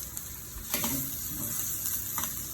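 Duck fat sizzles in a pan while magret de canard cooks, a constant close hiss with a few soft clicks and knocks of utensils, no speech.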